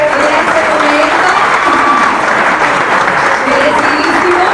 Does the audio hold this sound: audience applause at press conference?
yes